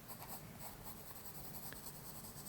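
A 4B pencil sketching hair on paper, giving a faint, continuous scratchy rustle of graphite strokes up close with no talking.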